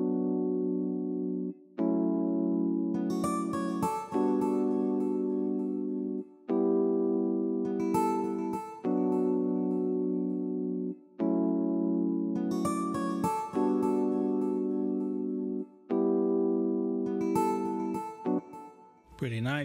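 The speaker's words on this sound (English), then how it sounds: "And then the next thing I did is I added this acoustic guitar." Acoustic guitar instrument from Logic Pro X playing a repeating plucked phrase within an Afrobeats mix, a moderately quiet loop of chords recurring every few seconds.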